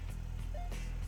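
Engine of a car in a drifting video game, accelerating as it pulls away after a turn, a quiet, brief low pulsing drone.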